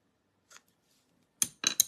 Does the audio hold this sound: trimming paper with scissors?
yes